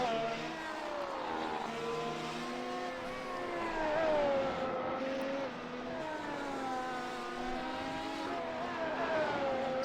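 F1 race cars lapping Monza in a racing video game give off a continuous high engine whine that rises and falls through gear changes as several cars run close together, loud and unbroken.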